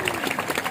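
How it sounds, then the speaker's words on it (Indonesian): Audience applause at an Indonesian religious lecture gathering, a brief dense burst of many hands clapping together, steady and fairly loud throughout. "Tepuk tangan untuk beliau."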